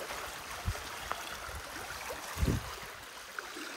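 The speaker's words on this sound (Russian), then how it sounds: "Такая маленькая речушка." Small river stream flowing quietly, a faint, continuous trickling wash with a few soft splashy bumps, heard alone.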